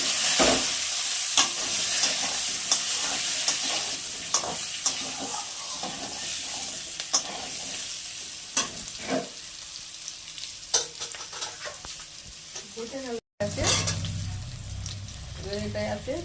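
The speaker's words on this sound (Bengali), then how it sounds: "আলুগুলো দিয়ে দিলাম একটু ভাপিয়ে রেখে দিলাম" Potatoes frying in leftover fish-frying oil with spices in a pan for a katla fish curry, a steady loud sizzle throughout with repeated scraping stirs and clinks, ending in a bubbling, steamy hiss.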